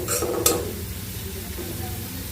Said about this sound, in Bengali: এখন হচ্ছে বাগার দিচ্ছি শাকগুলো